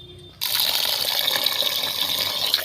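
Water used for washing flour dough is poured out and changed, a sudden loud gush after a brief quiet start, then a steady close splashing flow that continues to the end.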